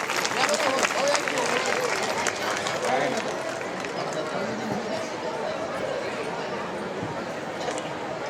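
A large crowd at a Dhamma conference in Purna claps in welcome, a dense sustained roar of hands that stays loud and even throughout, with voices mixed in.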